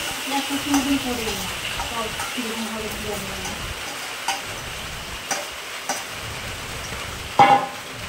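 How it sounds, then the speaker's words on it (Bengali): Mutton browns in oil with onions and cardamom for a spicy curry, making a constant sizzle in the pan. Scraping stirs and a few clicks and taps break into it, with a faint bit of talk in the background. "মাংস দিয়ে আধ ঘন্টার মতো নাড়াচাড়া করব, যাতে ভালো মতন তেল ছেড়ে দেয়"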